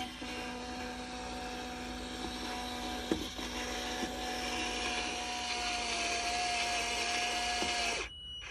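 A servo-driven Robart retractable landing gear on a modified Wildcat model aircraft lowers with a steady whirring electric hum that slowly rises in pitch over about eight seconds, a small click midway, then stops abruptly; close, no talk.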